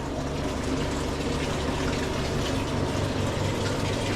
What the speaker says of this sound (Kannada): ಅಲ್ಲಿಂದ ನೀರು ಬರ್ತಾ ಇದೆ, ಮತ್ತು ಇಲ್ಲಿಂದನೂ ನೀರು ಬರ್ತಾ ಇದೆ, ಹೀಗೆ ಹೋಗ್ತಾ ಇದೆ.